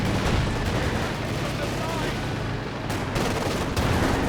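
Anti-tank guns fire on a charging Panther tank in Company of Heroes 2, a dense, continuous battlefield roar of overlapping gunfire and blasts with no clear separate shots, running loud the whole way through.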